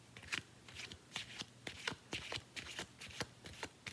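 A deck of tarot cards is shuffled by hand during a reading, with about eight rhythmic riffling bursts close up, evenly spaced and unaccompanied by speech.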